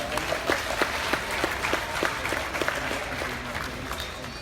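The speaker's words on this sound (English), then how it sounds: "Please give Kyle a big round of applause." Audience applause fills a livestock show arena at a grand drive, steady dense clapping from a crowd with a few sharper individual claps standing out, continuous for the whole stretch at moderate volume.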